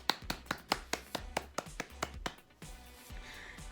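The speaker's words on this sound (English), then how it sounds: "Let's give them a big round of applause" A school celebration assembly claps faintly in a slow, even rhythm, about eleven distinct claps in quick succession, before the clapping stops and only quiet room noise remains.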